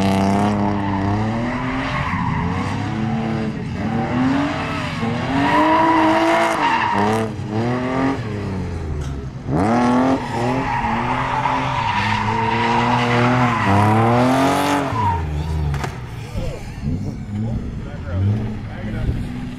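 An 1100whp Corvette drifting, with loud, sustained tire squeal and a roaring, revving engine that rises and falls through the slides, while a voice talks over the track noise.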